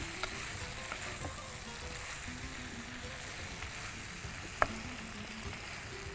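Vegetables, including drumstick pieces, sautéing in a pan after salt goes in, giving a steady soft sizzle throughout with a faint clink midway, no voices.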